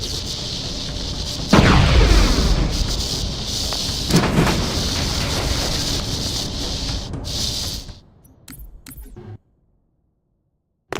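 Grenades explode in the video game Halo, a heavy boom followed by a second blast and a long rumbling tail that cuts off abruptly into silence.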